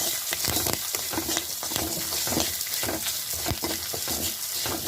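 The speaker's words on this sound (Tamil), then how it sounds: "அதோட கருவேப்பிலை சேர்த்துக்க போகிறோம். இது எல்லாத்தையும் லைட்டாக வறுத்தா போதும்." Curry leaves and pirandai (adamant creeper) fry lightly in a pan for thuvaiyal. A dense, crackling sizzle plays close up with frequent stirring scrapes in a busy, uneven rhythm, and no one talks.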